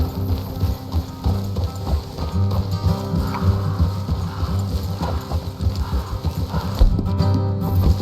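Horses clip-clopping along a road in Red Dead Redemption 2, a steady rhythmic patter of hooves close by with a brief snort or neigh, creaks of tack, and a heavier thump near the end.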